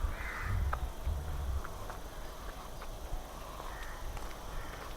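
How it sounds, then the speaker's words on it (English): At night near a lit construction site, a crow caws in a few faint, distant calls over low rumbling background noise and scattered clicks. "some lights are there, so crow was crowing"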